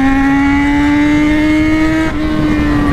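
A Jaguar XJ6 car revs loudly and close by as it passes, holding a steady engine drone with a slight rise and a brief shift partway through, with no talk.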